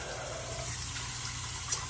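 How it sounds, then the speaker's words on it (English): A Gillette Super Speed 1988 L-1 safety razor is rinsed under running tap water, a brief steady rush of flow with a small splash near the end. "Let me rinse this off real quick"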